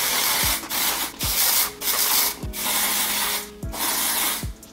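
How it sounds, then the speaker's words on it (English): Dry conditioner sprayed onto knotless braids: a run of short hissing spray bursts about every half to one second, close and fairly loud, with no talking. "So I'm just gonna spray a little bit of that."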